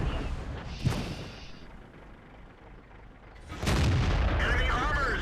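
A KV-1 tank in World of Tanks takes a hit and is destroyed: a sharp cannon boom early, a lull of rumbling engine noise, then a loud sustained burst of blast and crackling debris.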